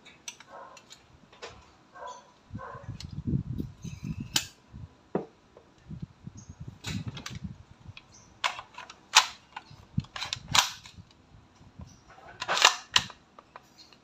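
A WE M4 RIS gas blowback airsoft rifle fires a scattered series of sharp mechanical clacks and snaps, irregularly spaced, with low rumbling handling noise between shots.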